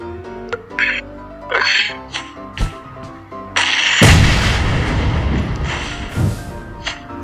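Game sound effects chirp and thump in PUBG Mobile, then a loud, close grenade explosion bursts out and its rumbling roar lingers for several seconds.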